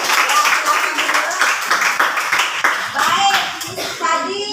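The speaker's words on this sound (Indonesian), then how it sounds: "Tepuk tangan buat kelompoknya Vika." A class of sixth-grade children claps for a group in a classroom, a dense burst of hand claps lasting several seconds with children's voices chattering underneath.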